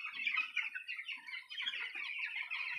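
Poultry chickens, including black birds, clucking and chirping in a farm shed, a dense, continuous chatter of many birds at moderate distance, with no talking.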